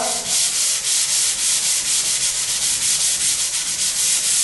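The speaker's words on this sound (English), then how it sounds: "And you don't have to sand a whole lot." Hand sanding of a drywall joint-compound patch around a thermostat, a loud, close, rhythmic rasping scrub repeating several times per second without pause.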